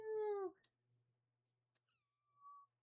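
A domestic cat gives a clear, close meow, then a second, thinner and rising meow after a short quiet gap, in an otherwise calm indoor room.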